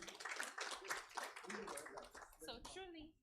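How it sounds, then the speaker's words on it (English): Scattered applause from an audience at a business television event, light clapping mixed with voices and chatter, quiet and fading out after about three seconds. "A round of applause for him again."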